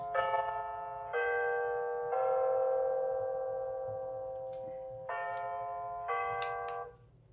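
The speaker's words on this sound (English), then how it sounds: "You also have some alarm sounds." A massive RGM digital wall clock plays its alarm, a ringing bell-like chime with clear tones that repeats in steady bursts about one second apart, a few held longer, fairly loud and alone.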